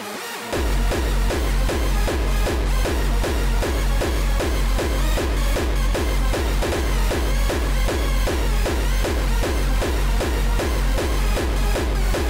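A distorted, buzzy hardstyle synth lead made in LMMS with ZynAddSubFX plays over a pounding kick drum in a steady fast rhythm, loud and continuous throughout.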